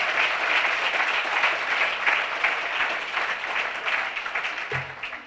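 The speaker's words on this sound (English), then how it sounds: "Give them a big round of applause." A large audience at an awards ceremony gives sustained, dense applause for the full length, loud and close, fading slightly near the end.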